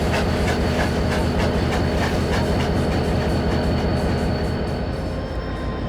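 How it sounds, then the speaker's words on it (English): A model train runs along its track, with a loud, continuous rhythmic clickety-clack of wheels over rail joints that holds steady throughout. "Christian took the train onto Lodi"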